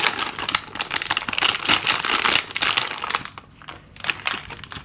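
A plastic snack packet crinkles and crackles as the last sunflower seeds are tipped out for a grab-and-go snack, with close, busy rustling that rises and falls over several seconds and no talking.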